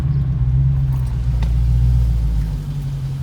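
A 2015 Jeep SRT 392 with all-wheel drive idles close by with a loud, steady low rumble that holds throughout and wavers slightly, with no talking.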